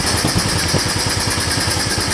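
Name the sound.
motorcycle engine idling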